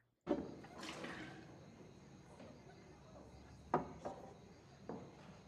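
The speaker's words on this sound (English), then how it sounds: "Is she pouring the ale or beer or whatever that people have not finished back into the jug" Ale being poured from a glass back into a jug in a rowdy tavern setting, a splashing liquid pour with a few sharp clinks and knocks of vessels against a low background murmur.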